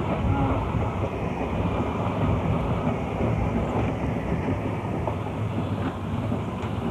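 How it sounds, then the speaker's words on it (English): Steady rumbling roar of an open-fronted single-decker electric tram car, one of the oldest on the Manx Electric Railway, running continuously with heavy low-end motor and wheel noise and some wind buffeting, no voices. "one of the world's oldest trams in regular service, the open-fronted, single-decker car number one of the Manx Electric Railway"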